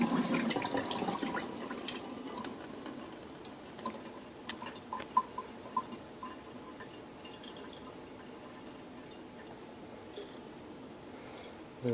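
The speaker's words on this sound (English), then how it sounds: "we're just going to give them a nice rinse with some filtered water" Sprouted grains in a strainer jar get a rinse with filtered water, a soft steady trickle and splash that is loudest at first and then settles into scattered drips, close and quiet with no talk.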